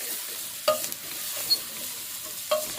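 Potatoes coated in turmeric are stirred through in a pan, with two distinct scraping strokes of the spoon across the pan over a soft, steady background sizzle.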